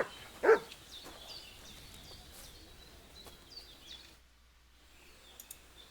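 A dog in the video game Kingdom Come: Deliverance II lets out one sharp, loud bark near the start, followed by quieter ambient birdsong and faint rustling.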